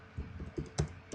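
Keys on a computer keyboard clack softly and unevenly as Python code is typed, a few quiet taps spread over a second with no talk.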